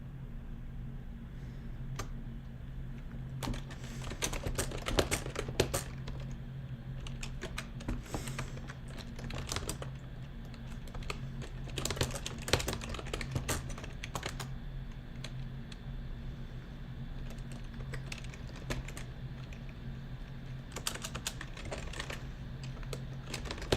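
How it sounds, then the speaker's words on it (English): Fingers typing on a computer keyboard in irregular bursts of rapid clicks with pauses between, close but quiet, over a constant low hum. "I am typing."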